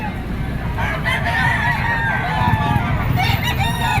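A Male Sims bloodline gamecock stag at a Padre Garcia, Batangas poultry market crows loudly and clucks repeatedly over steady crowd noise, with voices talking nearby.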